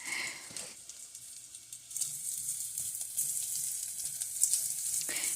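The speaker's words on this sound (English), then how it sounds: "And now I'm going to add some potatoes" Cut-up potato goes into a hot pot of browning sausage for navy bean soup, setting off a steady, loud sizzle and crackle that continues throughout with stirring noises and no talking.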